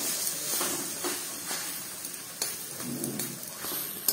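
A vegetable mixture of carrot, beetroot and potato seasoned with red chilli powder sizzles and fries in a pan, a steady soft crackle with faint scraping stirs repeating at a regular pace, close and fairly quiet.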